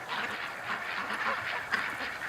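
A large, pretty female duck with a colourful head gives a string of nasal quacks at close range, with soft background noise and a few sharper calls near the end.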